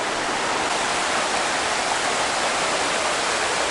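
Loud, steady rush of fast-flowing water, a swollen creek near Lake Tahoma Dam roaring continuously with broadband hiss and churn, close by and without voices.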